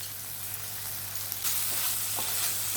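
Potato slices frying in a pan and being stirred, a continuous close sizzle broken by scraping stirs and small clicks of the utensil, with no talk.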